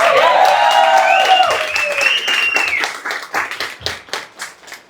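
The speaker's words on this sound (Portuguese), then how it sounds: "Uma salva de palmas." Applause and clapping from a company team audience after a speech, loud and dense at first, then thinning into scattered claps with a few voices over the last seconds.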